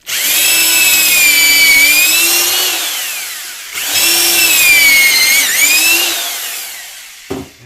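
A swap-meet power drill with a Kreg pocket-hole bit bores into a deep wooden drawer in two long, loud whining runs that sag in pitch under load, then a brief knock at the end.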